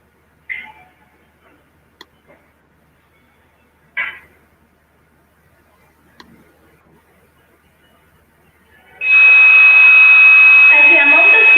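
Smoke sensor alarm set off by a smoking incense stick, its buzzer coming in loud and steady near the end as one continuous high tone, after several seconds of quiet with a few faint clicks and brief sounds.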